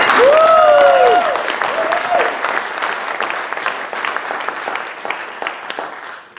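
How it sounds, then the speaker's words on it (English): A Rotary club meeting audience breaks into loud, dense applause that gradually thins into scattered claps, with a voice speaking over the start. "So, round of applause."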